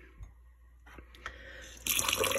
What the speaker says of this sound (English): then I'm going to rinse it off because rinsing it off stops it